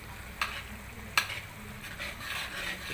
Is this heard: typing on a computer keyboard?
no